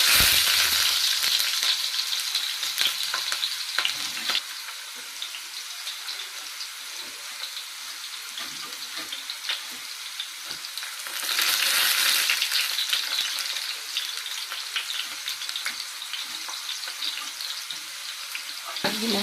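Onions frying and tempering in a pan for an Andhra-style brinjal curry, a steady broadband sizzle with crackles throughout, swelling louder around the middle and again near the end, close and continuous with no talk.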